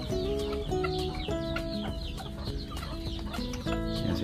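Bantam chickens cluck steadily and busily at close range while feeding, with overlapping calls and a dense, continuous farmyard bustle throughout.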